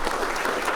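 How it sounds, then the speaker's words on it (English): Wedding guests break into applause at the end of a ceremony, a dense, steady clapping from the whole gathering that fills the short moment without any voices. "I think they deserve a round of applause"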